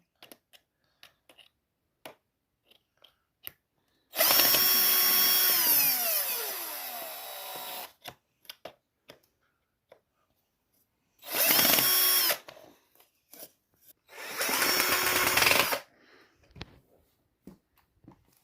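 A power drill drives screws during a child's tool-day activity, running in three whirring bursts, a long one and then two shorter ones, separated by pauses with scattered light clicks and taps.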